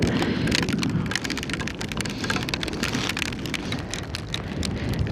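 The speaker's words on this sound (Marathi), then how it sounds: "केवढा मोठा बर्फ पडतोय, केवढ्या मोठ्या मोठ्या गारा आहेत त्या" Heavy hail pelts down on snow in the Ladakh mountains, a dense, steady, close patter of hard pellets drumming continuously without pause.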